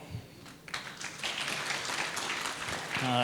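Conference audience clapping at a GopherCon 2022 flash talk session, starting sparse and hesitant, then swelling into a fuller, steadier round of applause that builds gradually toward the end.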